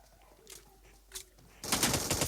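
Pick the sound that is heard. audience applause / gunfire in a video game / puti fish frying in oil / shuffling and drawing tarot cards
gunfire in a video game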